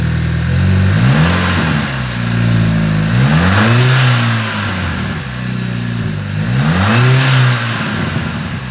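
A Mk5 Jetta SportWagen with a K04 turbo upgrade revs loudly and close by, its engine note climbing and falling through two or three throttle blips over a running idle.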